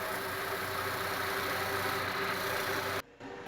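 An old traditional cassava grating machine, a worn village unit short on power, runs with a steady mechanical engine-like drone and hum throughout, dropping off briefly near the end.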